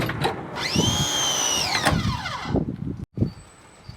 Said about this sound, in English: Time to put our drawers in now that everything is leveled, squared, and you just slide it in just like that.